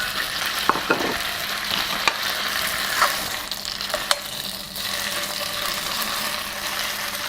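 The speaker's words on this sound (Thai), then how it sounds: "ขั้นตอนแรกผัดเส้นก่อน เอามาผัดกับน้ำมันน้อย" Noodles stir-fry in a little oil with a continuous close sizzle, broken by clinks and scrapes of a utensil against the pan, and no voices.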